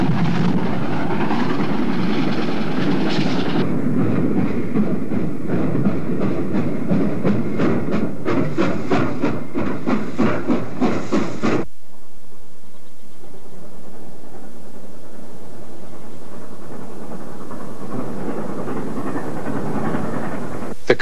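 A New York Central Mohawk steam locomotive and its train pass near Peekskill on the Water Level Route. It is loud and close, with a heavy, sustained rumble and rail clatter that cut off abruptly partway through, leaving a quieter trailing rumble.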